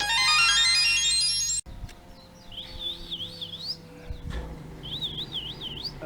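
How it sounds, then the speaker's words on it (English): Small birds chirp in short repeated trills, moderately near, with low background rumble and no talking. "I heard some of the mini birds are around here."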